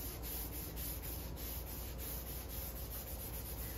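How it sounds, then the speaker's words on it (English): A sponge scrubs the dirty trunk of a bonsai tree in a steady, close rubbing rhythm of quick back-and-forth strokes with no talk. "for some sections that are very dirty, I also like to use my sponge and just give it a little scrub"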